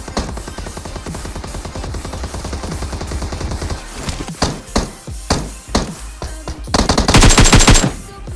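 Gunfire in a battle royale video game: rapid automatic bursts, loud and close, with several separate volleys and a dense final burst.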